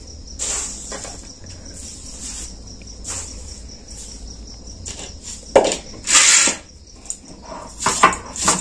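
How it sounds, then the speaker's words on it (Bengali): Store-bought puffed rice is crushed coarsely on a stone grinding slab, giving irregular crunchy, scraping bursts that grow louder and denser toward the end, with no talking. "আমি এবার এটা শিলে গুঁড়িয়ে নিচ্ছি।"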